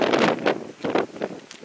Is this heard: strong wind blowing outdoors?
yes